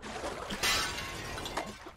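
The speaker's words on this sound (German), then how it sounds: "hier kann ich das Glas einschlagen" Glass smashed in the video game I Am Fish: a single short crash of shattering glass in the middle, with faint scattered clinks and a brief sharp knock at the end.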